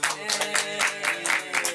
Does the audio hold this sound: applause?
yes